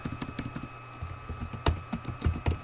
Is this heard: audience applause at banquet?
no